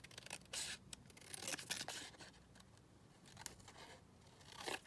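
Scissors cut a paper label for a junk journal envelope pocket in quiet, close snips and crisp rustling scrapes, steady over several seconds without speech.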